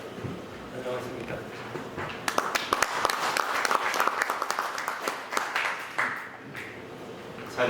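Audience applause at a forestry literature symposium, a sustained burst of many hands clapping that swells in the middle and tapers off, with a voice audible at the start.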